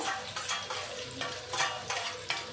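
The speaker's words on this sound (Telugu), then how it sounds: "ఆనియన్స్ సన్నగా తురుముకుని రెండు ఆనియన్స్ వేసేసుకోవాలి ఇవి మొత్తం గోల్డెన్ కలర్ వచ్చేంత వరకు ఫ్రై చేసుకోవాలి" Thinly sliced onions frying in a pan until golden for a baby corn masala curry, a steady sizzle broken by repeated rhythmic bursts of stirring, close and moderately quiet.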